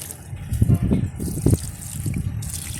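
Water poured onto potted jasmine plants in a rooftop garden under hot sun, gushing and splashing in uneven close bursts with a few louder surges.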